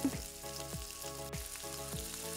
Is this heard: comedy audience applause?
no